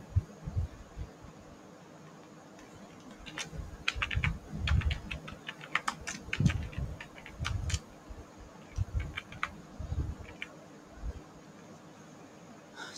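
Steady typing on a computer keyboard while working in Adobe Illustrator, with close, fast clusters of key clicks in uneven bursts over a faint background hiss and no voice.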